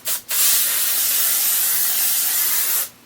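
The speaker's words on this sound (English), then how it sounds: "just doing like a generic spray" Hairspray comes out of a bottle in one loud, close, continuous hiss lasting about two and a half seconds, aimed at curled hair. It follows a brief short spurt and stops abruptly.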